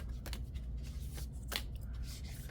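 Oracle cards being shuffled by hand, a soft papery riffling with repeated flicks and slaps, close and fairly quiet.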